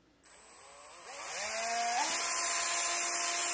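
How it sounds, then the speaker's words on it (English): A power drill spins up from silence, its whine climbing in pitch and settling into a steady high-speed drone, close and loud, drilling out tubing. "just stick a drill in there and drill it out"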